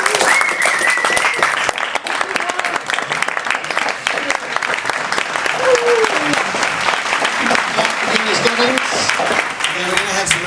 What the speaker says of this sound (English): Can I get a round of applause for Joe and the entire venue